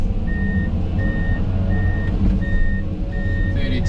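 A big Kenworth truck at a screening site gives a steady series of reversing beeps over its loud, continuous engine rumble, heard close, with no talk.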